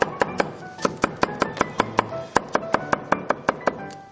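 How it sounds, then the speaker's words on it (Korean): Bamboo shoots sliced with a kitchen knife on a board, about sixteen sharp, evenly spaced chopping knocks at a steady brisk rhythm, close and clear with no talking. "죽순을 좀 썰었고요"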